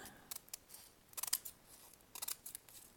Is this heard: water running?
no